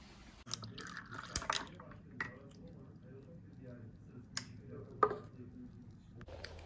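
Iced coffee being made at home: liquid pours and drips with small wet splashes and a few sharp clinks, fairly quiet and close, over a low steady background.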